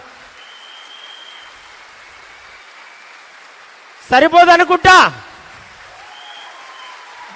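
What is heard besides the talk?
audience applause thanking the sponsor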